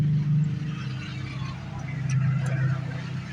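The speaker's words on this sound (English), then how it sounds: "Oh, I got some loud traffic." Loud road traffic, including a couple of trucks, rolls past outdoors beside an 86 Dodge pickup being repaired, a continuous low engine rumble that swells and fades with a few faint ticks.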